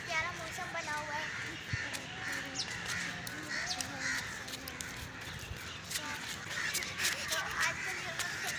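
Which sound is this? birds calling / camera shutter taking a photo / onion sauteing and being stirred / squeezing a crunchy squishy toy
birds calling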